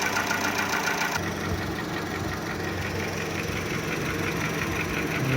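A Volkswagen Golf 1.4 petrol engine with compression problems idles close by, a steady, uneven mechanical churn with a knocking rhythm, continuous and unaccompanied by speech.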